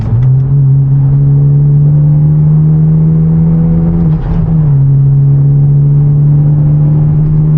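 A manual Hyundai Genesis Coupe's engine holds a loud, steady drone, then blips briefly on a downshift before settling at a slightly lower, even hum, heard close and without talk.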